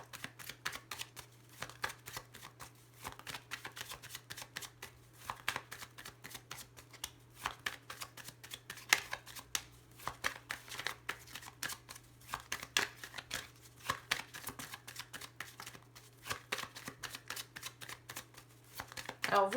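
Tarot cards being shuffled in a continuous run of dense, quiet riffling and flicking across the whole stretch, with a steady low hum underneath and no talk.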